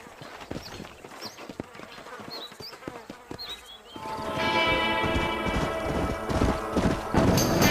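Rhythmic horse hoofbeats in Red Dead Redemption clip-clop close by, with birds chirping early on; a busy buzzing, whirring layer joins halfway and builds under the galloping.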